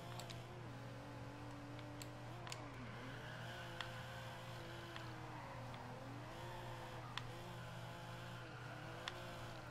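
A BMW 850csi engine drifting in Forza Horizon 2 hums steadily at low volume, its pitch rising and dipping as the revs swing, with faint ticks scattered through.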